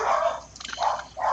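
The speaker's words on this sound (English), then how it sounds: "My dogs have decided to say hello." Dogs barking in a few short, close bursts, with faint watery background noise.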